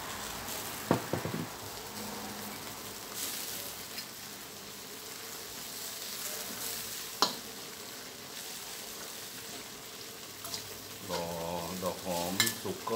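Onion flowers stir-fry with pork belly in a hot pan, making a steady sizzle broken by a few utensil scrapes and clanks. A voice speaks briefly near the end.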